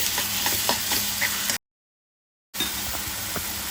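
Green chilli and curry leaf paste frying in a pan for a home-style pongalu dish; a continuous soft sizzle with light stirring, cut by about a second of complete silence midway before the frying resumes.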